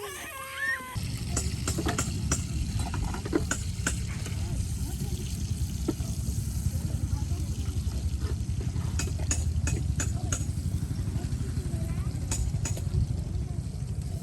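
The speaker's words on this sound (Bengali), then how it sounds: "ভেজে নেওয়া হবে" Pointed gourd, potato and okra sizzle in oil in a pan on a stove at a riverside morning kitchen, a steady close hiss with scattered crackles and pops running throughout.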